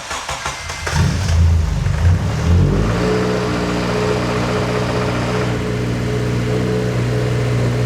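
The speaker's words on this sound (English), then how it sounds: "That like fired right up." A swapped Honda K24 engine in an eighth-generation Civic Si cranks briefly and fires up, then settles into a loud, steady idle close by after a quick rev.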